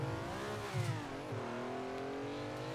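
A Ferrari racing car engine in the video game Assetto Corsa revs steadily and climbs in pitch, a loud continuous whine with no voices over it.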